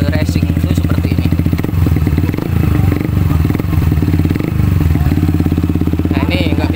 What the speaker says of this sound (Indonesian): Nah, jadi ini knalpotnya itu bisa tiga suara ya. Ini yang mode racing itu seperti ini.